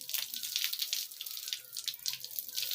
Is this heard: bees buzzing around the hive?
no